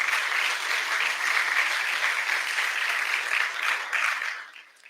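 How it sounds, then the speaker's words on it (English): An audience at a Class 195 graduation ceremony claps in a steady round of applause that holds for several seconds, then thins and fades out near the end. "if you will give these men a round of applause."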